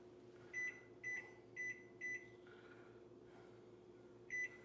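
Oven timer being set for an hour in a home kitchen while baking challah, giving a series of short electronic beeps, four in quick succession, then a pause and one more, over a steady hum.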